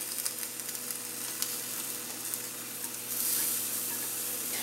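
Beef steak and its plate juices returned to a hot skillet for fajitas, a steady close sizzle with small crackles that swells louder and hissier over the last second or so.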